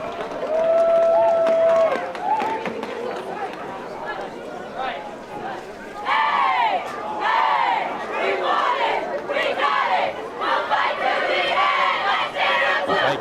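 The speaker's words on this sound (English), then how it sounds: "Please give Tiger Crew and Coach Leno a big Blue Hawk round of applause" Stadium crowd at a college football game between Dickinson State and Dakota State cheering loudly and yelling for honorary captains, a steady roar with rising bursts of shouts and some applause, voices mixed throughout on a damp, misty afternoon.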